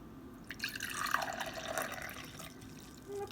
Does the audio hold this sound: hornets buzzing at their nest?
no